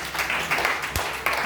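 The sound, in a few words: audience applause at a campus singing competition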